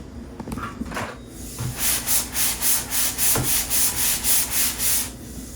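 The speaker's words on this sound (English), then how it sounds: "we're just hitting that with a 120 grit sanding sponge just to make sure we've got as smooth a surface as possible" Hand sanding of a butcher block wood kitchen countertop with a 120 grit sanding sponge, close and loud, a few scattered scrapes followed by about eleven rhythmic back-and-forth rasping strokes at an even pace.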